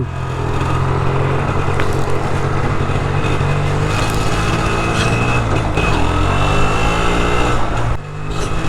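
An imported Yamaha RXZ six-speed two-stroke motorcycle runs at low RPM, a loud, close, steady buzzing drone with slight fluctuations in pitch before dropping off near the end.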